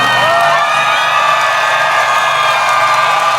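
A large crowd at a political rally in Daejeon cheers and whoops loudly, a dense roar of shouting voices sustained throughout with little clapping showing through.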